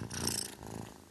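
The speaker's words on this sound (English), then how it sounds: "Cozy cats." A cozy house cat purring steadily up close, a soft continuous rumbling purr with no voices over it.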